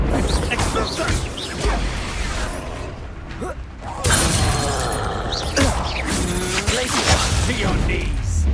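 Spell blasts and explosions in a Harry Potter Hogwarts video game sound as loud, dense crashes and mechanical clatter, with a sharp burst around the midpoint, while voices call out throughout.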